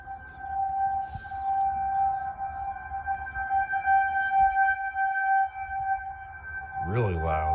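Monroe County civil defense siren sounding during its monthly test: a sustained loud tonal wail holding steady, with a voice briefly speaking near the end.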